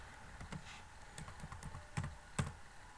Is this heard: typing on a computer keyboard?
yes